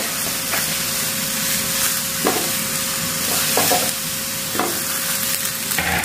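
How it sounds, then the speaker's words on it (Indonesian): Jengkol beans roasting in a pan, with a steady frying sizzle and hiss throughout, broken by several short scraping stirs, close and fairly loud, with no voices. "Kita panggang jengkolnya."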